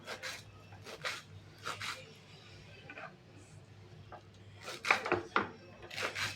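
A knife taps against a board in scattered bursts of quick, fine chopping of onion, close and fairly quiet, with pauses between runs.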